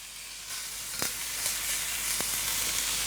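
Sous-vide cooked meat sears in a hot frying pan, a dense, steady sizzle close by, with a few sharp clicks and taps as it is moved, and no voices.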